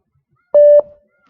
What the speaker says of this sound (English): Can you hear the beep all right? Can you hear the beep?